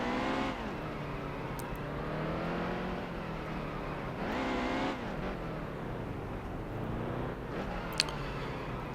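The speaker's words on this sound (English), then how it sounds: "drafting on Bowman. We're on the straightaways" Race car engines in Wreckfest on the Charlotte Roval whine loudly and continuously, rising and falling with gear changes and throttle, with a sharp tick near the end.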